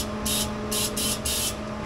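WoolWax undercoating hisses from a spray wand pushed inside the frame rail of an F150, in four short bursts over a constant steady hum, with no talk.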